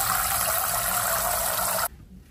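Water gushes steadily from a tap into a pot for boiling egg noodles, a loud, continuous rush that cuts off abruptly near the end, leaving quiet room tone.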